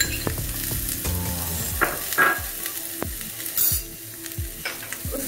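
Grated carrot and finely chopped capsicum with cauliflower sauté in a pan, sizzling steadily while a utensil stirs and scrapes in repeated close strokes.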